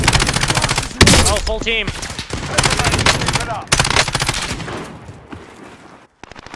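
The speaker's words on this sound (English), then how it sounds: "There's somebody shooting at me." Rapid automatic gunfire from a Modern Warfare match, loud and near, sounds in dense bursts throughout, with a brief voice speaking over it.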